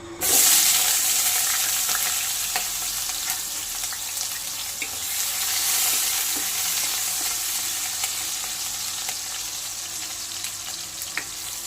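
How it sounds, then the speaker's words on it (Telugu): Onions dropping into hot oil for an Andhra-style gongura chicken curry, a bright sizzle bursting up loudly at the start and settling into steady frying with occasional stirring clinks, no voices. "ఆయిల్ వేడెక్కింది, ఉల్లిపాయలు వేసుకుందాం."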